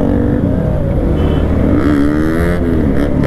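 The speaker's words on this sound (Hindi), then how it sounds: "भाई कितने सारे बाइकर्स हो गए यार" Motorcycles pass on a road with a loud, close engine drone whose pitch climbs and shifts as the bikes accelerate by, continuous throughout with no talking.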